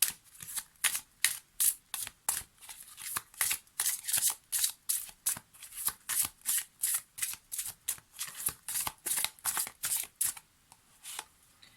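A deck of spirituality oracle cards being shuffled close up, a rapid run of crisp riffling bursts in steady rhythm from start to finish, with no talking.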